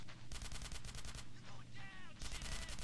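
Rapid machine-gun fire in GTA San Andreas, close and continuous bursts that break off briefly in the middle while a game voice shouts, then the shooting starts again.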